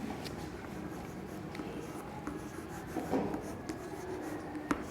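A teacher writes with chalk on a classroom blackboard. Faint, close scratching and tapping strokes come in a loose, uneven rhythm over quiet room noise, with no speech.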